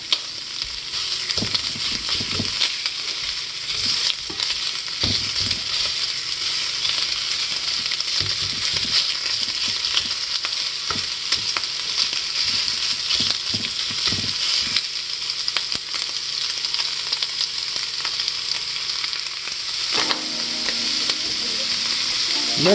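Italian pork sausage sizzles steadily in a hot pan for a Spanish omelet, a continuous loud fry with intermittent scraping and stirring clatter throughout, no voices.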